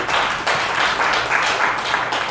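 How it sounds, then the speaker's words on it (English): Audience applause at a congressional candidate's public talk, a dense burst of clapping from many hands that carries steadily for a couple of seconds, fairly close and loud. "that's worth an applause right there"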